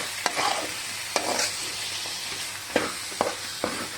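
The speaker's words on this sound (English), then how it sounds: "Now we mix the garlic along with the other ingredients." A spoon stirs garlic into ginger garlic paste for Kerala beef pickle in a pan, with several sharp scraping clicks against the metal over a soft, steady sizzle.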